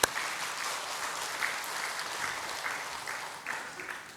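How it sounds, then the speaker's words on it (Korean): A church congregation claps in praise to God during a Sunday afternoon service, steady sustained applause from many hands, moderately distant and even throughout, with no talk over it. "하나님께 영광의 박수를 올립니다."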